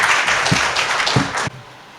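An audience at a city conference gives loud applause to welcome a speaker, a dense burst of clapping that cuts off sharply after about a second and a half.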